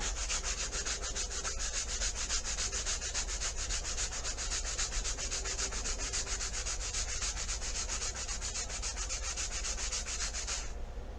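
Steady, rapid back-and-forth scratching of a sanding block rubbing a surface, close and continuous, stopping abruptly at the end.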